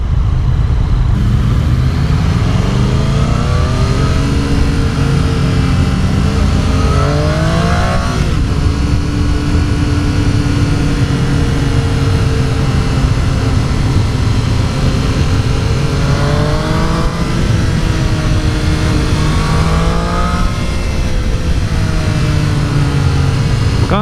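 A 2018 Triumph Street Triple R 765 motorcycle engine runs loud and close throughout a ride, its revs climbing and falling in repeated sweeps with a steady rough drone underneath and no talking.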